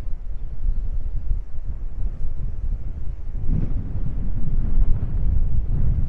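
Low, steady rumbling wind buffeting the microphone, continuous and strong, with a slight gust swelling near the middle.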